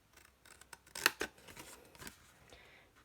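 Scissors cut through paper card for a craft gift box, making a few close, crisp snips and rustles with one louder cut in the middle, heard without talk.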